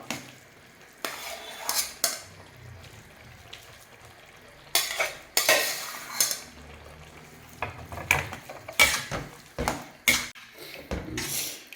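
Cooked rice gets stirred into hot oil in a pan, with repeated scraping and clinking utensil strokes in irregular bursts over a low sizzle. Nobody speaks.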